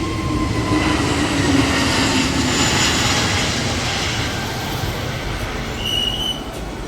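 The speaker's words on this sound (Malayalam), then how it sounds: "അങ്ങനെ പല ഫ്ലൈറ്റ് വരുന്നതും പോകുന്നതും നോക്കി അവിടെ കുറേ നേരം ഞങ്ങൾ ഇരുന്നു" A jet airplane near the runway at Kochi airport gives off a loud, steady broadband roar that stays constant for about seven seconds and fills the whole clip, with no voices.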